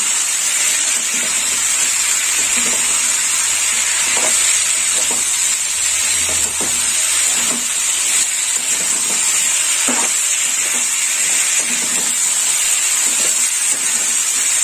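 Helencha greens frying in a pan with salt and radhuni spice paste, a steady close sizzle and hiss running throughout with faint stirring taps, no talk.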